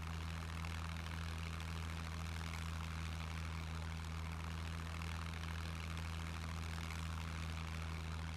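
A seaplane's propeller engine drones steadily and evenly at low idle in the survival video game SCUM, a constant hum with no talk over it.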